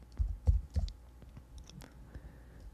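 A computer mouse gives a few soft close clicks, three fuller ones in quick succession and then fainter scattered taps, and no one speaks.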